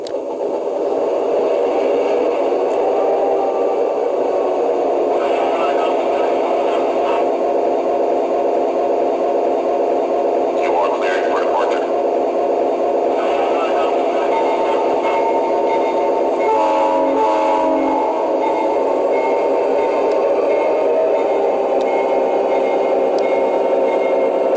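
An O-scale Atlas GP35 model locomotive run with Lionel TMCC sound: a steady engine drone throughout, with brief horn-like tones and radio-style cab chatter bursts rising over it; no talking from the room.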